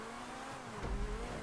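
A car engine in a GTA V Online race revs hard and close, rising with a sudden louder low surge near the end of the short burst.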